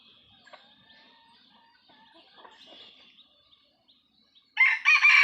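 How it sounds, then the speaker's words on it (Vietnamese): A young F1 junglefowl rooster crows loudly and close, a single harsh bright crow bursting in near the end after a stretch of quiet chirping birds. "Em này là gà rừng F1 nhá, gà tơ."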